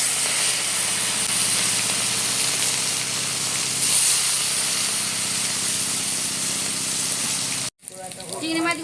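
Prawns frying in a pan for a prawn and pointed gourd curry, a steady loud sizzle and hiss that runs nearly unbroken and then cuts off abruptly near the end.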